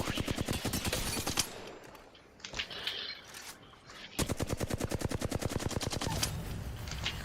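Rapid automatic gunfire from the video game Apex Legends, rattling in long dense bursts with a brief lull in the middle before another sustained, loud stream of shots.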